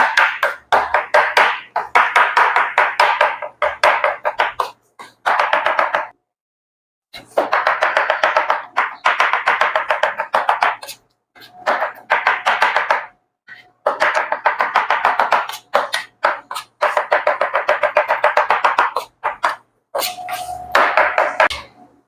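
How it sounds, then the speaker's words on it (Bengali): A knife chops tomatoes on a board for pizza margherita sauce in rapid, steady bursts of sharp taps, close and clear, with short pauses between runs and no talk. "বোর্ডে নিয়ে আপনারা একটা ছুরি দিয়ে ছোট ছোট ছোট ছোট করে কেটে নেবেন।"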